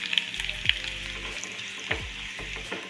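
Shallots, curry leaves and crushed chilli sizzle in hot oil for a tempering to pour over beef curry, a steady bright hiss with a few sharp spits and clinks of stirring, close and loud.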